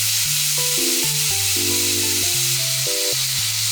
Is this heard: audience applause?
no